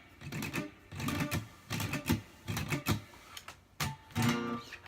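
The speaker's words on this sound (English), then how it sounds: "rascaillos, which I use in flamenco." Bursts of flamenco rasgueado on guitar, fingers flicking rapidly across the strings in short ragged strums separated by brief pauses, close and fairly quiet with no talk.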